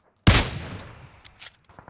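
A single sharp 98K sniper rifle shot rings out in the video game PUBG, then decays with a ringing tail and a few faint clicks.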